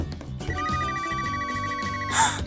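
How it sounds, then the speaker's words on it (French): A telephone rings with a bright, trilling electronic bell that sounds for about two seconds over soft background music, ending in a short higher chirp. "Soudain, son téléphone sonna."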